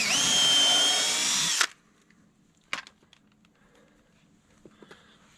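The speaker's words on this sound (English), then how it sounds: "now pilot that out good so she don't split" A power drill bores a pilot hole in wood for a boat seat, a loud high whine lasting about a second and a half before stopping, followed by a few faint clicks and knocks.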